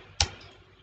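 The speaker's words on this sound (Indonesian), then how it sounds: "di setiap kata yang Bapak ketikkan tadi, Bapak memberi jarak dengan menekan spasi" A single sharp click of the space bar on a computer keyboard while typing during a primary school computer class, one quick close tap followed by quiet room tone.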